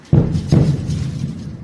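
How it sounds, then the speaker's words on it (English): Two heavy explosions from the bombardment of Gaza City thud in quick succession, each a sudden deep boom followed by a lingering low rumble that fills the rest of the moment. "It began with the sound of explosions."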